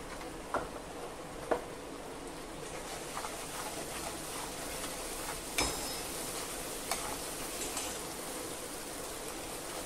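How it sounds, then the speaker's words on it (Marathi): Chili powder and coriander-cumin powder sautéing in a pan, giving a steady low sizzle throughout with occasional faint ticks and taps of stirring. "तिखट छान परतून घेऊया"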